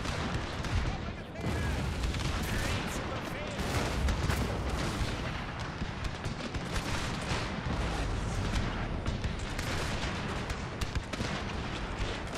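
Musket volleys and artillery fire from a Thirty Years' War battle in Total War, with Habsburg pike and musket formations, roll on as a continuous dense rumble of gunfire and booms for the whole stretch, with faint talk underneath.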